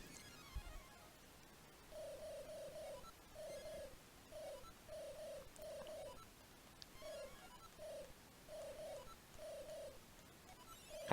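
Repeated short hooting coos from the owl in Zelda: Link's Awakening, falling in quick pairs and triplets at a steady pace, moderately loud over a faint hissy game background.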